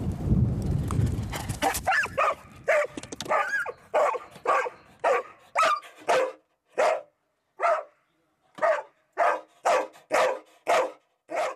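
A search and rescue dog barks during a training session, about a dozen loud, close barks in a steady rhythm with short gaps, after a noisy, clattering opening.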